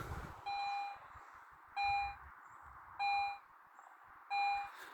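A Garrett metal detector gives four evenly spaced, clear electronic tones over a buried silver coin. Each tone lasts about half a second, with low background noise between them.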